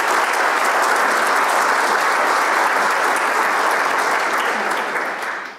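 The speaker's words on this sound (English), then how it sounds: "Thank you everyone for cheering for me." A crowd at a graduation ceremony applauds steadily with dense clapping and some cheering, loud and sustained throughout, fading slightly at the very end.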